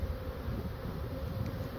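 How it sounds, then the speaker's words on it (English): Honey bees fan at the entrance where a swarm is piling into a hive, a dense, steady, close buzzing hum with a low rumble of wind, no voices. "all fanning the bees in."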